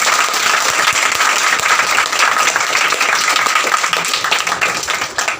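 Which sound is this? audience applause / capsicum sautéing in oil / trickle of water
audience applause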